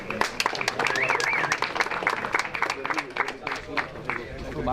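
Round of applause for Group F at the CRKC 2025 heat, a steady wash of clapping from the crowd with voices and chatter mixed in throughout.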